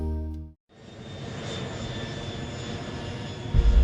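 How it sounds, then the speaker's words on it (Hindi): A jet airliner roars down the runway at Atlanta on its takeoff roll, a sustained, loud broadband engine rush with a steady whine that builds after a brief pause at the start. "कुछ समय बाद विमान रनवे पर तेजी से दौड़ा"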